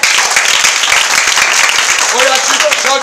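Church congregation at a children's deliverance service claps steadily and loudly, with voices shouting and calling out over the clapping throughout.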